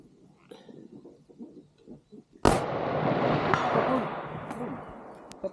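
Long-range hunting rifle fires once at a target outdoors, a sharp loud crack followed by a long rolling echo; quiet conversation is heard just before the shot.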